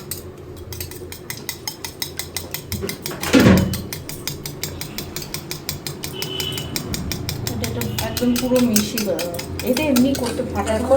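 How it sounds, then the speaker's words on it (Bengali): A cracked egg is whisked in a bowl while homemade cake batter is prepared, making quick steady clinking strokes against the bowl throughout, with a louder clatter early on and a voice talking over it. "ডিমটা পুরো মিশিয়ে ফেলছি"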